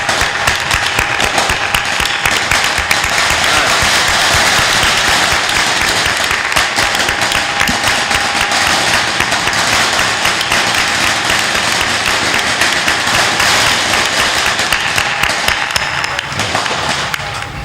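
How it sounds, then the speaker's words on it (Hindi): Audience at a Hindi spiritual discourse in an ashram clapping steadily and loudly, a dense continuous roar of applause that holds for the whole stretch and tapers slightly at the end. "ताली बजा दो"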